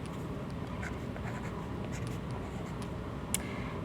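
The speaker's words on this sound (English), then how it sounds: "so I need to come over here and write a 2." A number being written by hand while balancing a chemistry equation, with steady scratchy pen or marker strokes running continuously over a faint broadband background, with one brief sharper tap near the end.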